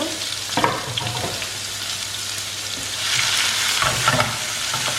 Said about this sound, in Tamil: இது வந்து ஒரு 2 minutes வந்து சாட்டே ஆகட்டும்